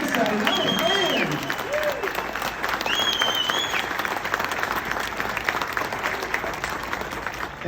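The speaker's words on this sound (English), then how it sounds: "Go ahead and cheer for Mike Corbin." An audience at a motorcycle Hall of Fame lifetime achievement ceremony applauds and cheers loudly and continuously, with whoops and shouts rising over the clapping and a little talk mixed in.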